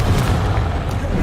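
Fiery Confringo blasting spells explode in Hogwarts Legacy, a loud sustained rumble of booming blasts, close and dense with no gaps.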